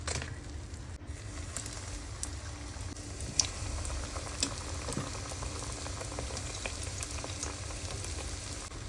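Long pieces of meat deep fry in oil, a steady bubbling crackle and hiss with occasional small pops, close and fairly quiet, with no talking.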